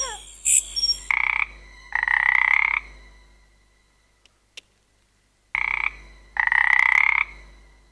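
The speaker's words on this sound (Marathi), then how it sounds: "बेडकाचा आवाज येतो." A frog croaks loudly and close in several buzzy bursts, two groups of rapid croaks separated by a few seconds of near silence, with a sharp click in the gap.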